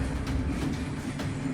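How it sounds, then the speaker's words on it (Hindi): Kim Jong Un's train running on North Korean rails, a close, continuous rumble with rhythmic wheel clatter and rattling carriages, heard alone without talk. "उत्तर कोरिया के नेता किम जोंग के लिए रेलगाड़ी से इतनी दूर सफर करना कोई नई बात नहीं है।"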